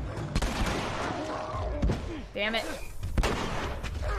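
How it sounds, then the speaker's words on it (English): A shotgun fires in The Last of Us amid combat, several sharp loud blasts spaced irregularly across the scene, mixed with other game sounds and a player's voice talking. "So keep using the shotgun, I guess."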